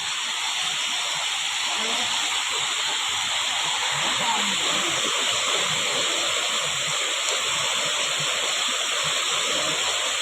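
Floodwater from a swollen river rushes in a steady, loud, broadband roar that holds constant throughout, with no break or pause.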